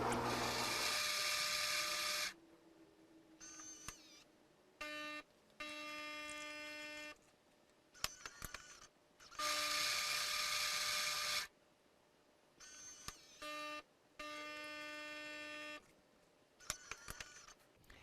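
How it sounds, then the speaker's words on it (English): A Gaggia Cadorna espresso machine grinding beans and brewing two ristrettos: loud whirring grinder bursts alternating with buzzing pump hums and clicks, in distinct on-off stretches, with no talking. "they may slide just a little bit when the machine is grinding"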